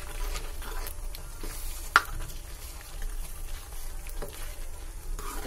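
Peas are stirred into masala frying in a pan, with a steady close sizzle and soft scraping of the spoon throughout, plus one sharp clink partway through.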